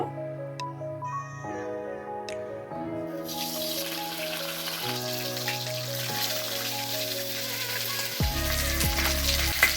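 Cooking oil hits a hot kadai on a gas stove while fish-head and elephant-foot-yam curry is being made; a broad, steady sizzle starts after a few seconds of music and continues under it.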